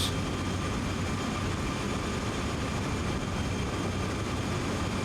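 A freight locomotive in Train Sim World 2 hauls a grain train at full notch 8 throttle, its heavy diesel engine giving a loud, steady low roar with constant rumble and no talking.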